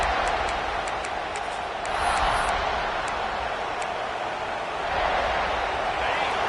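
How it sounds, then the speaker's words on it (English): Stadium crowd roaring in College Football 26 after a Gamecocks punt, a dense sustained wash of noise with swells near the start and end and faint whistle-like tones over it. "This crowd, full throat, splitting the eardrums"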